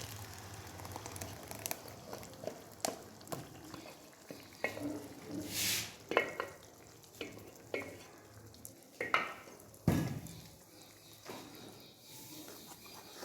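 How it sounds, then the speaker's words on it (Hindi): Curd and spice mix hits hot ghee in a kadhai for a Marwari raw turmeric sabzi, sizzling and frying steadily while a spoon stirs and scrapes the pan in repeated clinks and knocks. "इस तरह ऊपर घी आने के बाद हम इसके अंदर ये दही और मसाला मिला हुआ डालते हैं"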